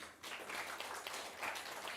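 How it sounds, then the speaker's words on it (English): Dense applause from a crowd, steady and continuous throughout, heard from a moderate distance. "A big round of applause for Mr. Kalyan Sunkari."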